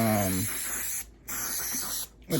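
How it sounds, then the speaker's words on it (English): An adhesive spray can hisses in two steady bursts, close and fairly loud, as it coats primary backing cloth for a tufted rug, with a short pause between them and a brief voice at the start. "I'm gonna use the adhesive spray on this here to see how this is"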